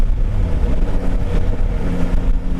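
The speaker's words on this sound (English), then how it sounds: "Just listen to that engine. That's a very refined engine." A Yamaha Tracer 9 sport touring motorcycle engine running while riding, a steady, smooth mid-pitched drone that holds even and continuous throughout, with no talking.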